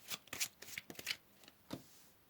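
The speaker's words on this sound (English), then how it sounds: "So let's pull another card here, group number one." Tarot cards are shuffled and drawn for a pick-a-card reading, several quick papery riffles and flicks close up, then a final card slap, with no voices.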